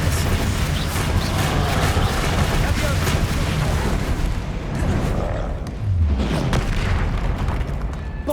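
Booming spell blasts from Bombarda and Confringo in Hogwarts Legacy, repeated heavy explosions and bursts rolling over a dense, continuous battle din, with someone speaking throughout.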